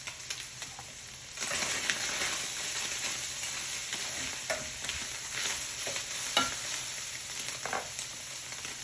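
Food cooking in a frying pan for chicken enchiladas gives a steady close sizzle that swells after a quieter start, with occasional scrapes and taps of stirring, no voices.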